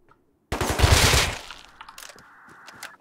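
A loud rapid burst of gunfire from a weapon in the video game Rust, a dense rattling volley lasting about a second, then scattered fainter cracks and shots.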